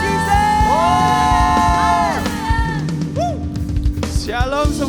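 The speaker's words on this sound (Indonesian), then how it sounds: "Come on, let's give it up for Jesus." A church congregation cheers, whoops and shouts continuously, with sustained voices and scattered cries over a dense crowd roar, loud and close throughout.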